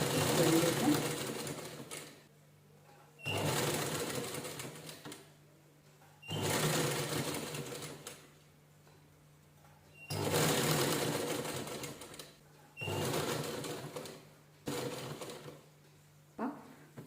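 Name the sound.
sewing machine stitching a cushion cover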